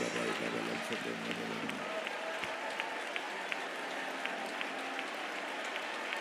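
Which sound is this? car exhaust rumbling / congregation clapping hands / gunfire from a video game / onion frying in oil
congregation clapping hands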